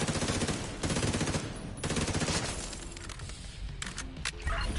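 An automated turret fires in The Division 2, loud rapid automatic bursts coming close together with brief gaps, followed by sharper scattered shots and impacts toward the end.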